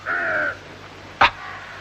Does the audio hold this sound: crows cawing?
yes